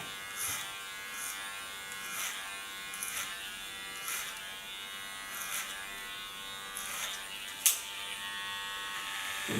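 Electric hair clippers buzz steadily during a buzz cut, with the blades set to the comb position. The close, continuous drone swells slightly with each pass through the hair, and no one speaks.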